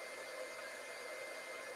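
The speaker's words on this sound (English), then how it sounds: "I'm turning my heat tool on here, and I am just warming it up on my hand." Embossing heat tool running to melt embossing powder, a steady airy blowing whoosh like a hair dryer, held constant and fairly quiet throughout with no talking.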